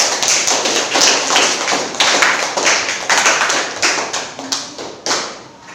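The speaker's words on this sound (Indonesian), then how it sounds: "beri aplaus ya untuk temannya" A classroom of students claps for a classmate, a run of sharp, uneven claps and taps, close and fairly loud, with no talking.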